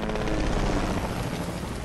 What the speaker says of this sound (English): You could get the chopper. Yeah, that's what I'm doing.